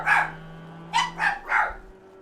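A dog barks four times in close succession, one bark followed by a quick cluster of three, loud and close, with a faint background hum.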